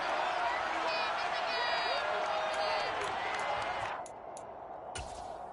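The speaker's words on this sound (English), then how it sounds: "Plenty of shouts from this crowd as they watch the replay." A loud stadium crowd in an American football video game shouts and roars while watching a replay, a dense noisy swell that holds steady and then drops back to a quieter murmur, with a few sharp clicks near the end.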